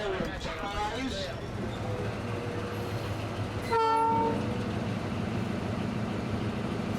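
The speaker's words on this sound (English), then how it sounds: "the train reverses in the other direction, headed back to the station" Train on a heritage museum railway in South Carolina reversing back toward the station, a steady low rumble of rolling cars with a brief horn blast midway, under faint talk.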